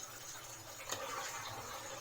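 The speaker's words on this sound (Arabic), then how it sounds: "انا كده هحط لهم كمان شويه ميه" Water poured into a cooking pot of rice and vermicelli for Egyptian koshari, a faint, steady close-up trickle and splash lasting about two seconds with no talk.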